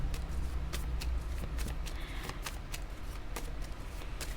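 Tarot cards shuffled by hand in a quiet room, a close run of soft riffling flicks and slaps repeating for a few seconds with no speech.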